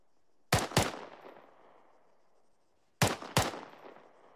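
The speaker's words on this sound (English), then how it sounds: "That would be a rapid rate of fire with the M4." Two quick double bursts of M4 rifle fire, each pair of sharp cracks followed by a ringing echo, the second pair arriving about two and a half seconds after the first. Loud, near and with no talking.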